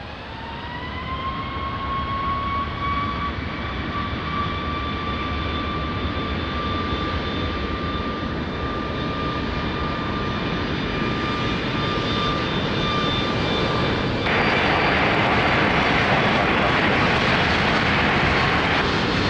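An airliner takes off from runway 20 at Lisbon Airport, its engines roaring as a steady, loud broadband rush with sustained whining tones that hold throughout and swell slightly louder near the end.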